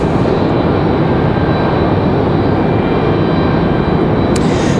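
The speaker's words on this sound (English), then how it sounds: "JetBlue 2184 headed back to Boston, Massachusetts in this A220 300" A JetBlue Airbus A220-300 jet airliner roars steadily and loudly at Raleigh-Durham airport, a dense continuous engine rumble that holds constant throughout with no talk.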